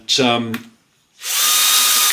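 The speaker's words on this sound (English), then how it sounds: "It's quite a powerful drill" A powerful, aging power drill runs at full speed in a loud, steady burst of high-pitched whine lasting about a second, coming right after a short spoken phrase.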